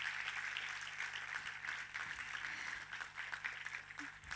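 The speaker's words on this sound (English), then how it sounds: "A big round of applause for them." A crowd claps steadily, a dense even patter of many hands at moderate loudness, continuing without letting up.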